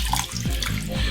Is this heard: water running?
yes